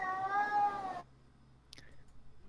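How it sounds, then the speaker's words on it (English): A single drawn-out, wailing cat meow sounds loud and close for about a second, then cuts off, leaving near-silence broken by a faint click. "I hope that's a cat, not a kid being tortured."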